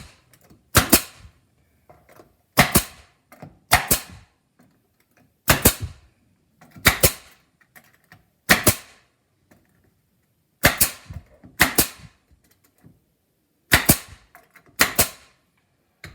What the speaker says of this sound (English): I've got 1 1/8" crown staples there that I'll just shoot in.